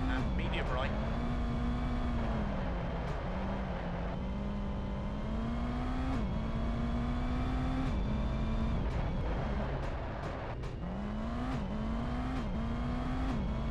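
A rally car engine in V-Rally Championship Edition 2 drones steadily at high revs, pitch rising and dipping through gear changes and corners, with a co-driver calling pace notes and a player talking over it.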